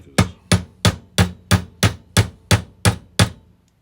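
A hammer knocks a pin out of a DUO-MITE universal mini bender, ten sharp metallic strikes at a steady rhythm, close and loud, then silence.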